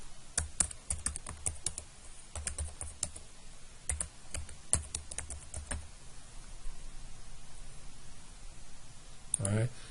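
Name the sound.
typing on a computer keyboard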